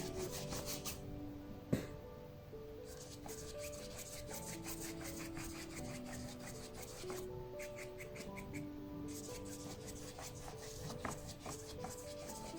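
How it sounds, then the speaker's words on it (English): A dry brush rubs paint across a surface to blend colours in a painting, a continuous scratchy rasp of quick repeated strokes with a sharp knock near the start, close and fairly quiet. "If you want to blend the color, it's better you use a dry brush."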